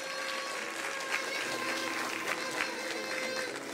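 A crowd at a beauty pageant applauds steadily, dense clapping sustained throughout at moderate volume.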